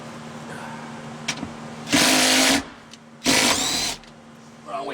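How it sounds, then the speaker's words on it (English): A power tool whirs in two loud bursts while removing a 14mm seat bolt from a 2010 Hyundai Tucson, with a steady low hum and a few clicks in the quieter gaps between runs. "Now this 14mm bolt, I'm going to remove it, and then we're going to remove the seat."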